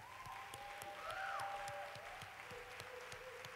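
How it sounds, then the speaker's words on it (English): Church congregation applauding, a faint, steady patter of many hands clapping at a distance with a sustained organ-like tone beneath. "I think we need to clap for these folks."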